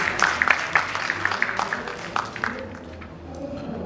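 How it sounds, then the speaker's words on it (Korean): Scattered clapping from a conference audience welcomes a police officer presenting on police drones, a handful of distinct claps at first that thin out and fade to quiet room tone by the end. "모두 박수로 맞아주시기 바랍니다."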